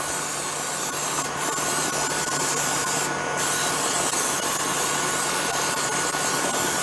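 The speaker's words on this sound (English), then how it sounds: "I'm going to spray it with my flour and my oil" Cooking spray of flour and oil misted into a bundt pan, a steady continuous hiss running throughout at close range with brief brighter bursts, no talking.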